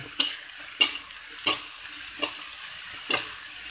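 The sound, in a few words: stirring sayote in a pan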